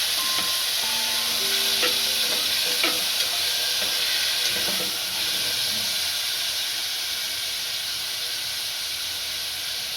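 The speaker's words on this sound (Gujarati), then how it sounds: "હવે આપણે જે ટમેટા સમાર્યા હતા એ નાખશું." Chopped tomatoes tipped into a hot pan with softened chillies and coriander stems for tomato soup, a loud continuous sizzle and hiss with a few spoon-stirring scrapes, close up, no voices.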